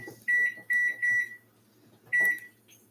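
Several bright electronic beeps from a kitchen cooking timer being set, a quick pair and a run of three, then a pause and one more beep, loud and close in a quiet room.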